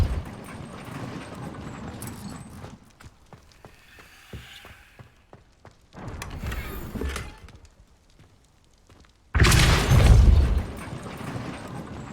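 In Hogwarts Legacy, the Depulso spell is cast with a deep whooshing blast and rumble, followed by crumbling debris, then a second, louder booming burst toward the end.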